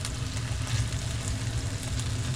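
Food fries steadily in a pan with miso, a constant close sizzle and crackle holding at an even level with no voices.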